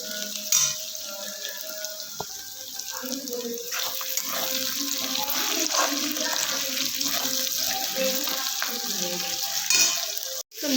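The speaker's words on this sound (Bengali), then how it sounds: "এই যে পেঁয়াজ, রসুন আর আদা কুচিটা এখন ভাজবো" Chopped onion, garlic and ginger fry in a pan, a constant crackling sizzle with stirring scrapes and a few clinks, ending in a sharp knock.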